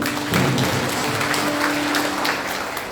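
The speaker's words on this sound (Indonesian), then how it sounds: "Tepuk tangan bagi Tuhan" Dense applause from a large church congregation fills the space, steady and loud throughout with a faint sustained tone underneath.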